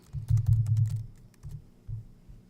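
Computer keyboard keys clatter in a quick run of typing while a module name is entered in a course tool, then a few separate keystrokes follow, close and fairly quiet.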